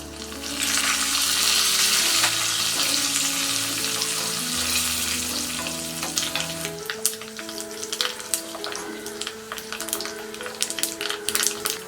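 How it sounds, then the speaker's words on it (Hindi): Chana dal, urad dal, mustard seeds, asafoetida and curry leaves frying in hot oil for a tempering, with loud, steady crackling sizzle and scattered sharp pops as it continues. "ये चना दाल और ये उड़द दाल फ्राई हो गया है।"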